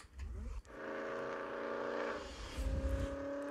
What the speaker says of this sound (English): once you start adding some exhaust sounds into the mix